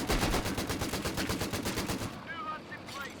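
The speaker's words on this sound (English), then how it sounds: "And the double machine guns are torching them" Rapid, steady bursts of double machine gun fire in Company of Heroes 2, a loud continuous rattle for about two seconds, then quieter battle noise with faint chirps.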